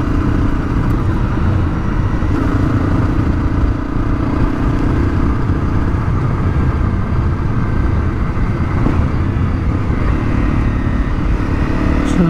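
A Honda CRF250L motorcycle engine drones steadily and loudly throughout as it climbs Truleigh Hill, a continuous close ride with wind rumble and no pauses.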